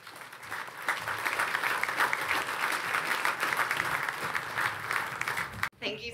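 A conference audience claps steadily to welcome a speaker onto the stage, a dense, even wash of applause from many hands that holds for several seconds and then cuts off abruptly.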